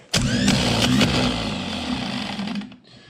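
A 1967 Chevrolet Impala starter motor, bench tested without load, whirs and grinds loudly for about two and a half seconds, a coarse growling drone, then spins down and stops.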